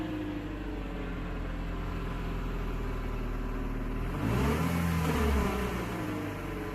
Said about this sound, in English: if that bearing goes bad and you're in neutral, it's gonna make that noise